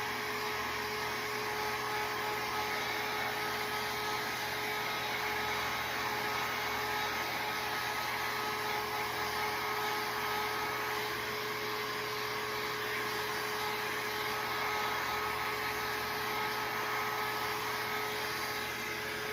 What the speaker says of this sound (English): And I'm using a heat gun.